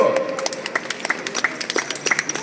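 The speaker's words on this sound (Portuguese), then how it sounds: "uma salva de palmas para Cristo" Congregation clapping in a church service, a lively room of hands with distinct sharp claps standing out, fairly close and continuous, with some faint voices mixed in.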